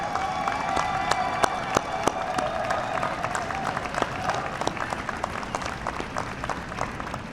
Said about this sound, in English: Please give these incredible Chicagoans a round of applause.